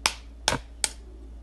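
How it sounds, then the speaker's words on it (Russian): Three sharp cracks of eggs being broken open with a small knife in a kitchen, spaced evenly about a third of a second apart, close and crisp. "Берем 3 яйца и разбиваем яйца ножичком."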